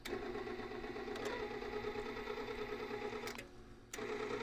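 A Harbor Freight wire welder feeds new wire through with a steady mechanical whir and rhythmic buzzing, broken by a few clicks and a brief stop near the end.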